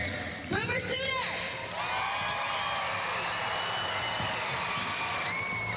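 A crowd at a gymnastics meet in the Lloyd Noble Center applauds and cheers as a broad, sustained roar, with a commentator talking over it.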